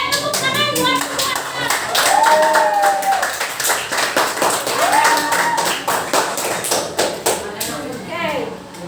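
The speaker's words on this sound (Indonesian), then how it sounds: "Oke, tepuk tangan buat semua." A classroom of students claps hands together for several seconds, a dense burst of many close claps with some whistling or voices mixed in, fading out toward the end.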